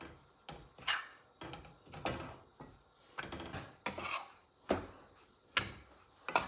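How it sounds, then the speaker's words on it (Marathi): Gram flour roasting in ghee on a low flame is stirred with a spoon in a pan, giving soft rhythmic scraping strokes about once a second, close and quiet, with no talking. "आता आपल्याला हे मंद गॅसवर चांगलं भाजून घ्यायचं आहे."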